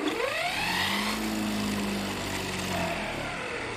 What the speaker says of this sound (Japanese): ハンマーナイフモア起動。